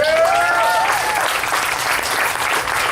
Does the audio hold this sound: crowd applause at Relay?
yes